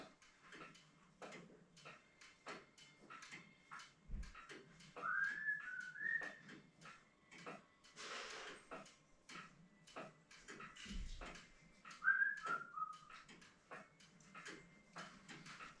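A person whistles a short melodic tune at moderate distance, with two phrases separated by a pause, amid clicks, ticking and quiet room noise.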